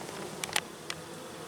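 Brief buzzing of an Asian hornet passing close by, a couple of short rising flutters against a steady outdoor background hum.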